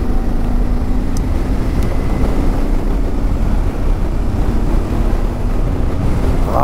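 A Honda Transalp XL 600 V PD06 motorcycle fitted with an aftermarket exhaust, heard as a steady, loud, continuous low engine drone with a rushing wind-like layer over it, and no talking.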